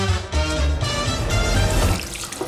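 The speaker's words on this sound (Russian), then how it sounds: "Проверю заодно кран." Water running from a tap into a clean washroom sink in a restaurant, a steady close splashing stream that swells slightly after the start and continues without talk.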